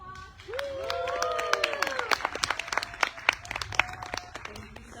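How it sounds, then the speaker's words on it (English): Scattered, sharp claps from a gathered crowd at a cross-border solidarity rally, growing denser and more distinct toward the end, with a voice speaking and calling out over the start. "Let's do another round of applause."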